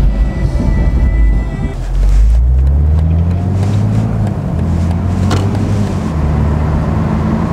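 A convertible car with a straight-six engine drives along, its steady engine drone rising and falling through gear changes with road and wind noise.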